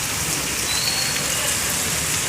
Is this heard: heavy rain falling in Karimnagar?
yes